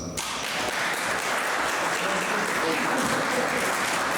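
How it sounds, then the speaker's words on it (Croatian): An audience at an anniversary celebration for a pensioners' association applauds with dense, sustained clapping that starts abruptly and stays loud and even throughout. "Dajte malo jači aplauz."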